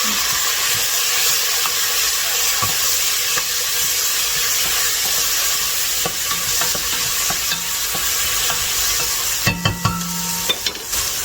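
Garlic sizzles steadily in a hot pot of habanero hot sauce, a constant bright hiss with a few small clinks and stirring sounds near the end.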